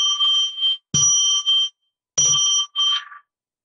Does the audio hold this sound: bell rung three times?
yes